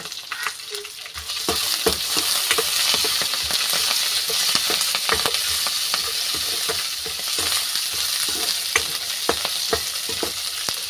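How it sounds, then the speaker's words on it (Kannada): Onion, dry red chillies, curry leaves and crushed garlic crackle loudly in hot oil for an okra gojju tempering, a dense continuous sizzle punctuated by frequent sharp pops and stirring scrapes, close by with no voices. "ಕಟ್ ಮಾಡ್ಕೊಂಡಿರೋಂತಹ ಈರುಳ್ಳಿ, ಒಣಮೆಣ್ಸೆ ಹಣ್ಣು, ಕರ್ಬೇವಿನ ಸೊಪ್ಪು ಇಷ್ಟನ್ನು ಹಾಕ್ಕೊಂಡು ಒಗ್ಗರಣೆಗೆ ಹಾಕ್ಕೊಳ್ಳೋಣ"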